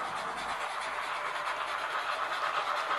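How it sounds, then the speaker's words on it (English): Model trains run around a layout track, giving a steady, continuous rolling rumble and soft rattle, close and unbroken with no voices. "Got a few trains running around."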